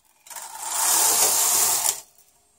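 A knitting machine fitted with a ribber runs its carriage across for the first row of an English rib, a close, loud mechanical clatter lasting under two seconds with no talking.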